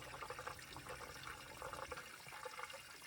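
Water flows and gurgles faintly through the cooling system of a hot Volvo 145 engine with a B20 motor, a soft, steady trickling rush with small bubbling surges, and no voices.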